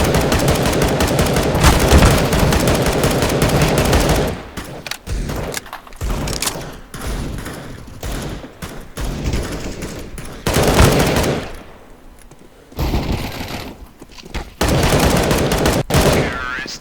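Gunfire in Counter-Strike: Global Offensive, including shots through a wall: loud bursts of rapid automatic fire separated by brief quieter gaps, close and punchy, with no voices heard.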